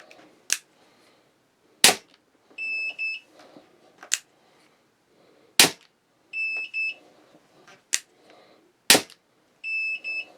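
A pistol crossbow firing bolts, including an Armex Tron, with several sharp loud snapping shots spaced a second or two apart, each pair joined by electronic chronograph beeps, and no voices.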